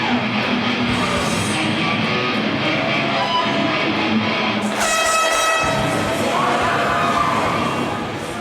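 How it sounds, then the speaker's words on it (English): A wrestling crowd at a Showboat event roars for Drew Parker during his match against Marcus Mathers, a loud, continuous wall of cheering and yelling with a sustained horn-like blare joining partway through. "I was hoping you could hear, could feel the energy from the Showboat crowd for Drew."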